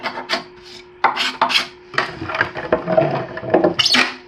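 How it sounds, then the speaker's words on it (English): A fine four-in-hand rasp scrapes a wooden axe handle in uneven strokes, loud and close, each rough rasping pass separated by short pauses. "as it gets closer to the end, I go to a 4-in-hand rasp, like a fine rasp"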